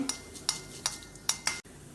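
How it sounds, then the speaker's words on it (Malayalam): Mustard and cumin seeds splutter in oil, giving five sharp separate pops spaced about half a second apart over a faint background sizzle. "ഇനി ഇതേ എണ്ണയിലേക്ക് 1/2 ടീസ്പൂൺ കടുകും 1/4 ടീസ്പൂൺ ജീരകൂട്ട് പൊട്ടിക്കാം."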